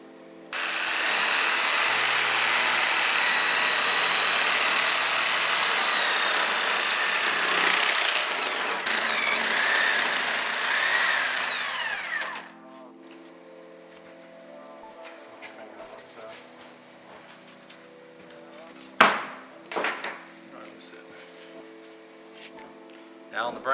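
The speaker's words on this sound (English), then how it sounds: "if you can cut these both in a V like this with your sawzall blade or a meat saw" A reciprocating saw cuts in a V through a buck's skull while caping the deer, a loud, close, sustained buzzing grind for about twelve seconds, then stopping and leaving quieter handling noises and a few knocks.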